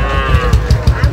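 A young Sahiwal bull calf moos loudly and close by at a cattle market, giving one sustained low call with a faint rhythmic thumping underneath.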